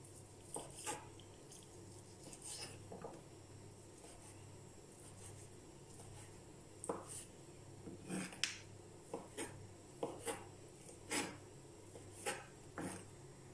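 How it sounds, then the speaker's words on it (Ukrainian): A knife slices chicken into thin strips on a board while preparing a Beijing cabbage salad, giving quiet, irregular taps and scraping cuts that come closer together toward the end. "Соломкою нарізаємо курку."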